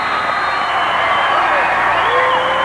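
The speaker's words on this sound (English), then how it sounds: "you can hear the Hoxie crowd in the background" Excited crowd at a 1990 Kansas high school wrestling championship match in Hoxie, a steady roar of cheering and whoops filling the space loudly throughout, with voices mixed in.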